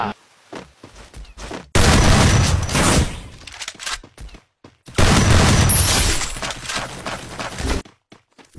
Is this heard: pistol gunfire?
yes